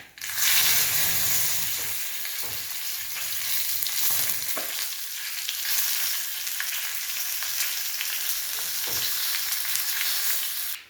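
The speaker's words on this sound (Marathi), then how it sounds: "मोहरी उडली की त्यामध्ये आपण थोडेसे जिरे टाकून घेऊया हिंग आणि कढीपत्ता" Mustard seeds splutter in hot oil with cumin, asafoetida and curry leaves added, a steady close hiss and crackle throughout, with a few sharper pops and stirring knocks and no voices.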